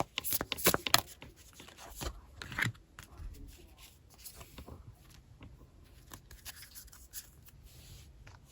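Tarot cards being shuffled and drawn by hand, a quick flurry of papery riffles and flicks near the start, then softer, sparse slides and taps as cards are pulled, close and fairly quiet.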